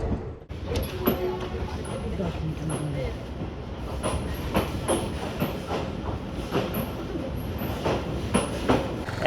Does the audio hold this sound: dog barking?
no